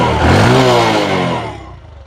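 A second-hand motorcycle engine starts at a used bike gallery, opening with a loud rising rev that holds a throbbing idle tone, then fades into quieter running by the end.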